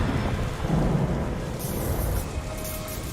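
Thunder rumbling from a lightning strike in a film scene: a loud, low, rolling boom with rain-like hiss that builds early and fades into a steady storm wash, with no voices.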